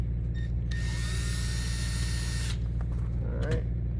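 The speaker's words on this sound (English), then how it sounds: "I'm going to pre-drill with just an 1/8 inch drill bit" Pre-drilling a melamine RV cabinet door with a 1/8 inch bit, a single high, steady drill whine lasting under two seconds over a low constant hum, then a voice.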